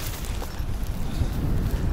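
Westerly wind blows by the sea near Mariupol in January, a steady low rumbling buffet with a broad hiss on top, close and moderately loud, without speech.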